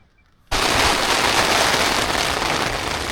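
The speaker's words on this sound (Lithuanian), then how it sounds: "Pradėjo lyti. Pasivėjo mane lietutis." A sudden heavy downpour in Australia starts abruptly after a quiet moment and becomes a dense, loud, steady patter and roar of rain on surfaces close by, continuing to the end.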